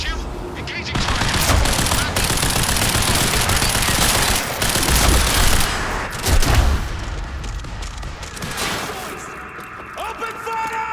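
Sustained loud automatic gunfire in the Quantum Break game, dense machine-gun bursts and booms running nearly the whole time, with shouted voices over the shooting.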